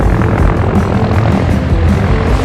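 A helicopter lands in a smooth skidding touchdown, its loud close rotor and engine roar filling the whole stretch with steady pulsing blade chop.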